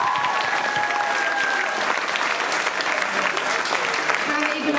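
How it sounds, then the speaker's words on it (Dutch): A large audience applauds at the De Rooi Pannen Got Talent 2012 final after a performance, dense sustained clapping filling the whole stretch at steady loudness, with faint tones underneath. "Mag ik daarvoor nog een keer een heel groot applaus."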